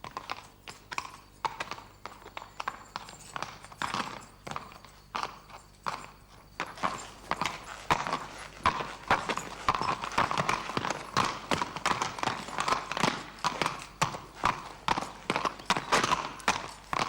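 Horse hooves clip-clop steadily across a courtyard as a horse is worked, a continuous run of sharp, closely spaced strikes at moderate distance with no talk over them.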